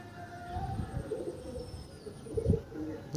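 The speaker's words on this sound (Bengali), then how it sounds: "তো দাদা ফিমেল পায়রা এসে গেছে" Pigeons in a loft, including a native breed, give soft low coos in short throaty bursts, fairly close and with light background rustle.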